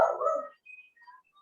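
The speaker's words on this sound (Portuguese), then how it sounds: "Tem cachorro latindo aí" A dog barks once, close and sharp, over a remote online class, followed by a few faint yips trailing off into quiet.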